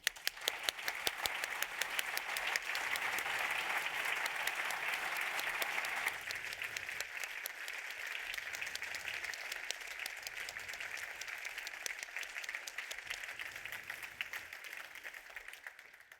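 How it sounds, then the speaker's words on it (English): Warm, sustained applause from a ceremony audience at the CECAM50 Berni J Alder Prize, honouring a prize winner. Dense clapping fills the whole stretch, swelling early and then holding steady without easing. "we should really cheer him with a warm round of applause"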